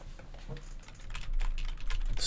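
Rapid, uneven clicking of keys on a computer keyboard at a programming desk, close and fairly loud, with no talk over it and the bursts getting denser toward the end.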